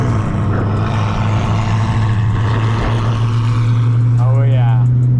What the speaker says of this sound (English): Listen to those turbos, they sound good as freak.